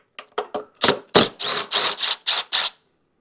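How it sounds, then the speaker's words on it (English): A 10mm deep well socket on a ratchet loosens the nuts on a Kohler 7000 air filter, making a close series of about nine sharp clicks that start quick and light, then turn heavier and steadier. "then we'll need a 10mm deep well to get the 2 nuts off"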